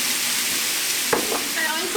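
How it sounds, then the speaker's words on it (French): Sliced onion and bell pepper sauté in a spoonful of olive oil in a sauté pan, making a bright, steady sizzle up close, broken by a quick stirring knock and clatter near the middle. "dans une sauteuse j'ai mis une cuillère à soupe d'huile d'olive et je fais revenir mon oignon et mon poivron que j'ai émincé"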